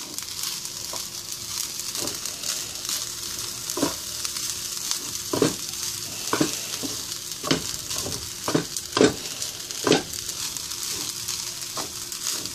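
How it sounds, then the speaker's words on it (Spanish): Chinese fried rice frying and being stirred in a pan, a constant sizzle broken by repeated scraping strokes of the spoon at irregular intervals, close and fairly quiet. "aquí vamos a moverlo todo, ¿okay? Tenemos que estar dándole para que se unan todos los ingredientes."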